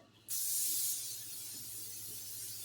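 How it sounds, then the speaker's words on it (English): Non-stick oil spray is sprayed into a springform pan in one sharp, loud hiss that starts abruptly and then tapers to a softer, steady spray close by. "I'm going to go ahead and spray it with some non-stick spray oil."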